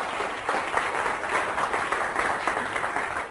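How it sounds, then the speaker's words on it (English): A room of students applauds at an evening class event, continuous crowded clapping holding steady and moderately loud throughout. "A round of applause"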